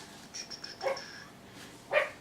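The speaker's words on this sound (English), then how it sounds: "I need to introduce you to my new pup." A young pup gives a few short, high yips and barks, faint and spaced apart against a quiet indoor background.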